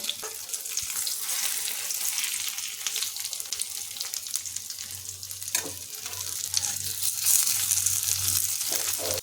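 White sesame (til) fritters fry in a pan of hot oil, giving a continuous crackling sizzle that stays steady throughout, with occasional light stirring and no talk.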